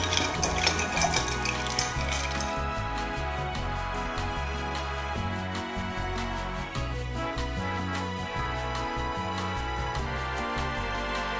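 A cocktail stirred in a mixing glass with a bar spoon, giving a steady run of close, light clinks and scrapes without talk, over a constant background hum.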